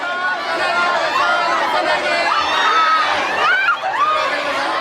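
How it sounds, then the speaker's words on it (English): Excited crowd surging forward at a Tokyo bookshop, a dense, loud babble of many voices with shrieks and high squeals rising above the chatter. "The crowd surges forward, and suddenly it seems like things are getting dangerously out of control."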